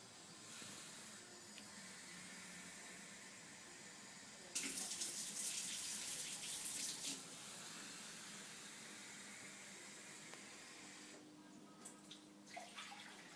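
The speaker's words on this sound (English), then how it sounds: "And then we need 2 cups of water." Water runs steadily into a large saucepan for rice pudding for a few seconds, a bright rushing pour over a quiet hiss, then stops; a shorter splash follows near the end.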